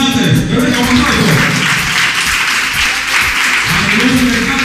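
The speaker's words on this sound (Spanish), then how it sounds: "Vamos a llamar a Mariluz Fernández, que venga un aplauso." Clapping from a crowd at a bicycle handout event for children, a steady dense applause that runs the whole time with voices mixed underneath.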